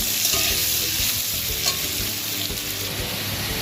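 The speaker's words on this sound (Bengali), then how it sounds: "দিয়ে আলুগুলোকে একটু ভালো করে ভেজে নিতে হবে।" Potatoes seasoned with salt and turmeric fry in a pan with a steady, close sizzle, while a spatula scrapes and stirs them in regular strokes.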